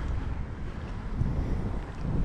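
Wind at a caravan campsite blusters steadily against the microphone as a continuous low rumble, with no other sounds.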